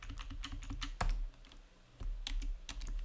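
Quick bursts of clicky keystrokes on a computer keyboard, a run of rapid taps, a brief pause, then more typing, close and fairly quiet.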